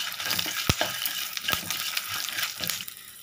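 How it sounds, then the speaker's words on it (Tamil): Ten garlic cloves and a piece of ginger frying with dried red chillies in a pan, a steady bright sizzle broken by a few sharp stirring clicks. "இப்போது பத்து பல் பூண்டு, ஒரு துண்டு இஞ்சி போட்டு நல்லா ஃப்ரை பண்ணிக்கோங்க."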